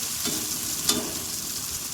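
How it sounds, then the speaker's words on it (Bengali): Potato pieces frying in hot oil in a kadai for banana-flower ghonto, a continuous close hiss of sizzling with one brief sharp crackle of stirring. "আলুগুলো ভাজা হচ্ছে"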